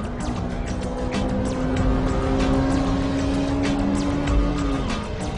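A Honda Civic EK9 Type R with a B16B engine runs at full throttle toward a hairpin. The high-revving engine note climbs steadily and holds near the mic, with some tire noise underneath.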